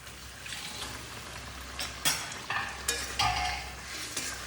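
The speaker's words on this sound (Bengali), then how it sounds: "গ্রেভিটা ফুটে উঠেছে, দিয়ে দিচ্ছি পনিরের কোপ্তা ভেজে রাখা" Fried paneer koftas go into bubbling gravy in a pan, a soft simmering hiss broken by several sharp splashy sizzles and clinks as each piece is dropped in, without speech.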